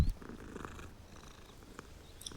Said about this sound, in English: We can pet the cat.